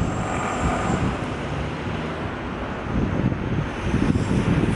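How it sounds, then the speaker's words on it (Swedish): Wind blowing outdoors, buffeting the microphone in a steady, loud, low rumble that swells slightly toward the end. "Uff, nu blåser det också."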